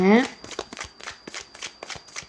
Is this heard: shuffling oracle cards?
yes